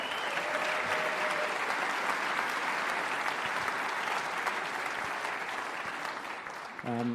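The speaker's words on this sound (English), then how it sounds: "you had a big round of applause" A big round of applause from a squash tournament crowd for Hall of Fame inductee Sarah Fitzgerald, dense and steady for several seconds before easing slightly near the end.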